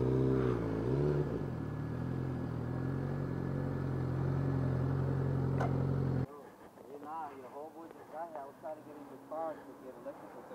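Yamaha Road Star 1700 motorcycle engine idling loud and steady, close by, for about six seconds with a pitch dip near the start, then cutting off; afterward people talk over a quiet background.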